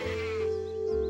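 A single close sheep bleat, a short wavering cry lasting about a second.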